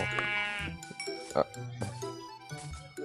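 Sheep bleating in the Minecraft video game, a few wavering bleats close up with faint jingling, mixed with a person talking over the gameplay.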